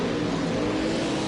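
A race car engine drones loud and steady during an onboard lap of a sim racing league race at the Hoosier GP. It holds a constant high rev with no talk over it.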